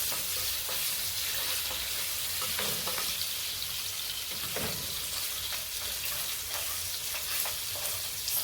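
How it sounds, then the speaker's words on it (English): Beef frying in oil in a non-stick pan, a steady dense sizzle throughout with faint stirring scrapes now and then, close and without talk. "I'm going to fry this meat in this oil till we achieve a very nice brown color"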